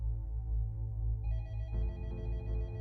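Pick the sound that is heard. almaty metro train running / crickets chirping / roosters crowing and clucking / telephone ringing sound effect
telephone ringing sound effect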